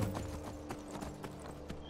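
Horse hooves clip-clop in Skyrim, a steady run of hoofbeats in the near foreground with a faint game ambience underneath and no talking.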